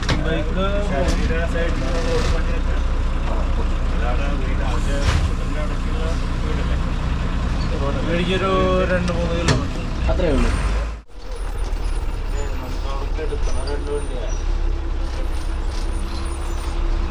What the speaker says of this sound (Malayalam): നമ്മുടെ മലക്കപ്പാറയിൽ നിന്ന് തിരിച്ചു വരുന്ന ആനവണ്ടി